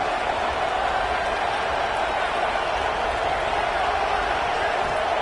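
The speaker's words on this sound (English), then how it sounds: "this crowd is fired up. Listen to this noise here." A big football crowd in a stadium roars continuously, a broad, steady wash of cheering noise that fills the whole stretch without a break.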